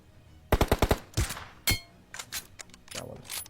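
Gunfire in a battle royale game with a flying car, a quick burst of sharp rapid shots followed by single loud cracks and metallic clangs, close and punchy, with no talk.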